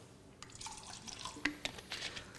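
Bottled water being poured into sample containers, faint splashing and dripping with scattered small drops and trickles, quiet and close, no voices.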